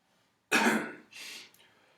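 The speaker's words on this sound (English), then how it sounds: "And have you take a deep breath" A patient draws deep breaths while a clinician listens to the posterior lungs during a head-to-toe physical exam: a sudden loud, breathy rush, then a second softer, airy breath close by, with no talking.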